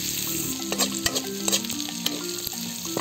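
Pork and banana blossom with garlic and onion sizzle in a pan while being stirred, steady frying hiss broken by sharp scraping clinks of the utensil at irregular intervals.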